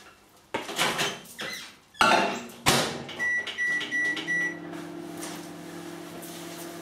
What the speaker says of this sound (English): so we just put this in the microwave for 2 minutes